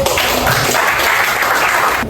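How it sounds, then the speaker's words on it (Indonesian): Classmates applaud after a student presentation in a classroom, a dense, steady clapping that fills the whole two seconds at close range without any talking over it. "Oke, berikan tepuk tangan untuk."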